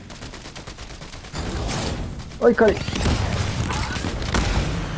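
Gunfire in the video game Fortnite as a player shoots at a car, with rapid bursts of shots under the louder voices of people talking.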